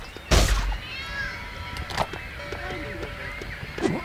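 A cat meows a few times in the LEGO City Undercover game, short mid-pitched cries set among game effects and a background tone.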